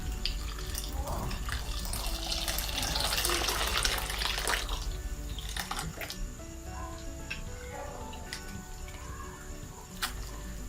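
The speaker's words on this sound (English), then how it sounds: "Add warm water." Warm water pours into a vessel for making traditional palmyrah juice, a steady close splashing rush that thins out over several seconds, followed by scattered drips and small clinks with no talk.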